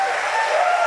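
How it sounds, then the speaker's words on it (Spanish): Church congregation applauding during a festive worship service, a dense, steady wash of clapping from a large crowd throughout, with a faint voice or shout above it. "¿Por qué no le da un aplauso al Señor una vez más?"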